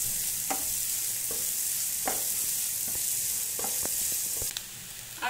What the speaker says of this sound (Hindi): हम मीडियम फ्लेम पे चलाते हुए ऐसे सब्जियों को भूनेंगे